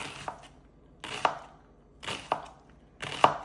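Slow, even knife strokes slice through onion on a board, four soft chops roughly one second apart, heard up close without voices.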